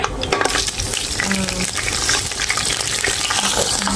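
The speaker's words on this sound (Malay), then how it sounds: "Tok Mak tumis dulu" Ingredients for sambal udang sizzle and frying in hot oil in a pan, a steady dense crackle with scraping stirs, loud and continuous throughout.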